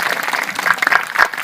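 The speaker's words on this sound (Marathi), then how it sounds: "टाळ्या वाजवा." Audience claps at the close of a kirtan at a Krishna Datta temple in Lasanpur, a brief burst of dense crowd applause, near and lively.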